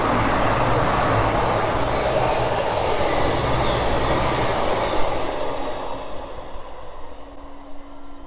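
A train passes on the Basingstoke to Reading line, a loud steady rush of wheels and carriages that gradually fades as it moves away.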